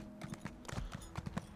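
Horse hooves clip-clop in The Elder Scrolls Online on Bleakrock island, a quick, even run of steps at close range, with no speech heard.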